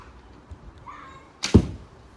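A single arrow loosed from a 35-55 lb longbow gives a sharp, close snap and thump, with a faint hiss before it and a quick decay after.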